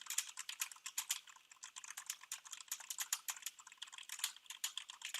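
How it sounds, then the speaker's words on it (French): Fast typing on a Corsair K70 mechanical keyboard with Cherry MX Red switches, as a quick, dense, continuous patter of crisp key clicks, fairly faint and heard alone. "on passe au test clavier de ce casque Corsair avec justement un clavier mécanique Corsair K70 équipé de switch MX Red"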